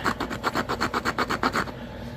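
Hand-knapped root beer flint knife sawing back and forth through material, about ten even rasping strokes in a steady rhythm, close and fairly loud, with no talking.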